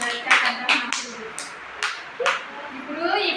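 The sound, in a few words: children clapping for Arshiya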